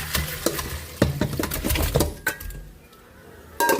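Boiled pork pata is moved from a cooking pot into another pot, with repeated metallic clinks and scrapes of utensils against cookware and wet, sloshing sounds in the kitchen.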